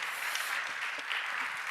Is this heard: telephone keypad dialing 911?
no